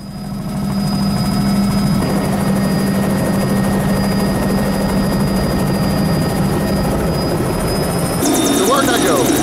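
A helicopter drones loudly and continuously, its rotor chop and engine whine close by, with a brief shift in pitch near the end.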